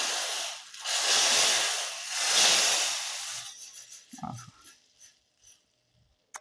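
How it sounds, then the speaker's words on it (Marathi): Hot phodni tempering poured onto simmering South Indian rasam gives a loud, broad sizzle that surges twice, then drops away into a few soft crackles and pops before fading to quiet. "मस्त अशी चरचरीत फोडणी"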